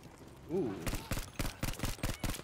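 Rapid bursts of gunfire in the World War II shooter Battlefield V, a quick run of about eight sharp, evenly spaced shots after a brief voice.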